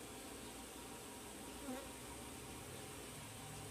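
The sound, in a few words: honey bees buzzing on a hive frame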